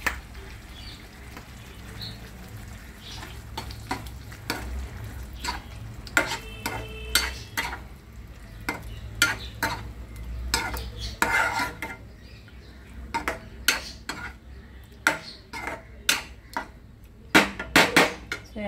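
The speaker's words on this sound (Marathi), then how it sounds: "सोया सॉस टाकलाय, मस्तपैकी आता उकळू द्यायचं।" Chicken with soy sauce bubbling in a pan, a metal utensil stirring with steady clinks and scrapes against the pan over a soft sizzle, the knocks growing sharper and more frequent toward the end.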